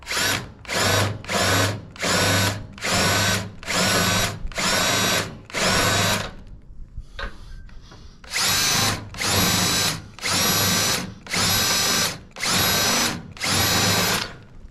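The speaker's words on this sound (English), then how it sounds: "I'm not drilling all the way through, but I'm going to get it enough where it leaves a good mark" A power drill boring partway into a trailer in repeated loud bursts, starting and stopping in a steady rhythm, with a brief quieter gap midway.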